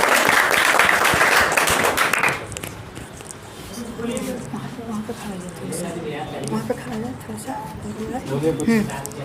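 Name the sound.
audience applause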